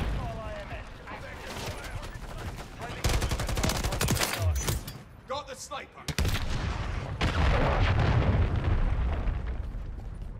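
Grenade explosion and bursts of gunfire in Call of Duty: MW3, loud chaotic blasts and rapid shots with a sharp detonation midway and heavy rumbling, while a player talks over the action.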